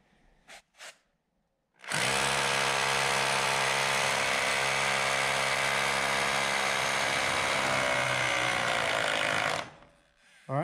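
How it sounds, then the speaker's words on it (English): A hammer drill bores into a pole barn house wall, its loud steady motor whine and rapid hammering holding continuously for about eight seconds before cutting off, with brief knocks just before it starts. "trying the old hammer drill"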